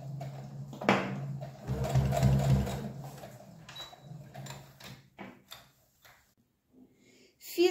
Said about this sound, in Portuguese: Então, eu vou fazer essa costura aqui.